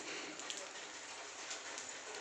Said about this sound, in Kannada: ನಿಮ್ಮ ಕಡೆನೂ ಇವಾಗ ಮಳೆ ಬರ್ತಿದೆಯಾ